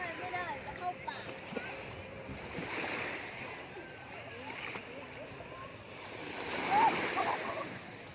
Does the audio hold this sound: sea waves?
yes